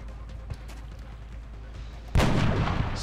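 A quiet low hum, then a single sudden loud gunshot blast with a rumbling tail, gunfire in XCOM: Enemy Within.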